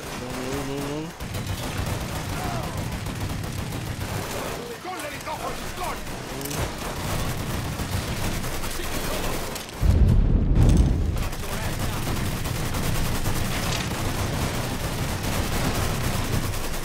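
Sustained gunfire in Mafia 3, dense rattling fusillades and booming shots layered under a loud game mix, continuous barrage with a heavier blast near the middle, and someone talking over it.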